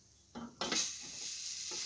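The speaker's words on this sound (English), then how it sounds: "Yeah, look at that sizzling." Cinnamon wafer cookie batter sizzles in a hot iron, starting with a sharp hiss after a brief clatter and then settling into a steady soft frying sizzle, close and without talk.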